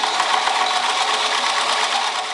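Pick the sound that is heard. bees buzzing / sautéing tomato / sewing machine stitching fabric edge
sewing machine stitching fabric edge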